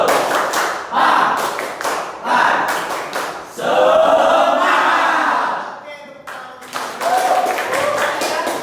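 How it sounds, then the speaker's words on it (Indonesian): Ninth-grade students in a classroom clap in patterned rhythmic bursts, with pauses between sections and the class's voices calling out along with the claps. "Oke, tepuk tangan."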